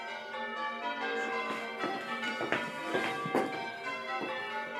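Bells peal with layered ringing tones and repeated strikes overlapping in a festive, moderately loud wash, heard without talk.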